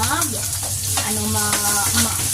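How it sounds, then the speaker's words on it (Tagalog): Steady sizzling of carrots and potatoes frying in hot oil, with faint background voices and occasional stirring noises throughout. "Isasabay ko ng pirituhin ang aking carrot at saka yung patatas."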